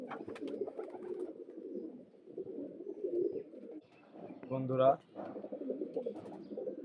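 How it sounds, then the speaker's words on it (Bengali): A pair of Kalanka pigeons at a home loft coo in soft, low, repeated phrases close by, with one fuller coo standing out near the end while someone talks over them. "আমার বাড়ির এক জোড়া কালাঙ্কা পেয়ার দেখুন।"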